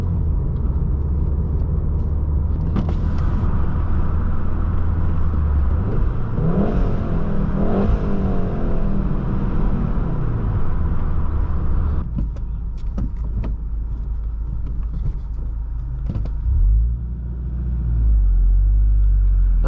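2019 Volkswagen Golf R with a turbocharged four-cylinder engine and six-speed manual, heard from inside while commuting; a steady engine hum swells as it revs and accelerates, then settles and drops to a low idle rumble toward the end.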